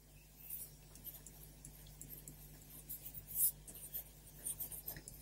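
A blue-cartridge pen glides across paper with soft, continuous scratching and small strokes, faint and close against a low steady hum, no voices.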